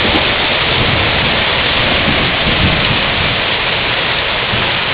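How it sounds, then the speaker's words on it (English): Heavy rain pours down outside a house in a steady, loud, dense hiss during a storm, with thunder rumbling low beneath the downpour and no pauses or voices. "That first thunder strike, man, it rumbled the house."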